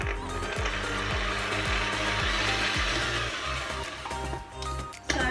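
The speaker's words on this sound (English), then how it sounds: "we're going to put it under a mixer, or if you have a electric mixer, that would be fine as well. And we're just going to beat this on a medium speed" Electric mixer beating gluten-free brownie batter at medium speed, a steady close whirring hum with a rhythmic low thumping of the beaters in the bowl, which dips briefly near the end.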